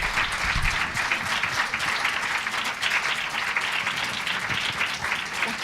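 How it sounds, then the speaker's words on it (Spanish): An audience applauds after a lecture, a dense steady wash of many hands clapping throughout, sustained and even at a moderate distance, with no voices standing out. "el aplauso es muchísimo más que merecido"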